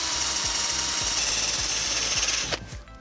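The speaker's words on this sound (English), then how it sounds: "we've got a wire brush on the drill and we just go around and we clean all of the hub spotlessly clean" A wire brush spinning on a drill scours a car's front wheel hub, a loud close whir with rhythmic scraping grit that cuts off near the end as the drill stops.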